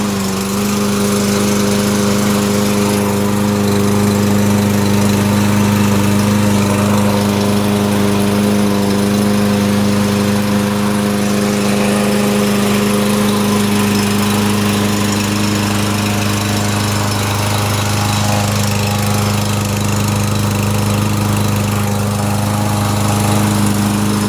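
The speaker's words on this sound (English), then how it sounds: "There's the push mower." A gasoline push mower runs close by with a loud, steady engine drone and a constant low throb. It never changes pitch and no voices are heard.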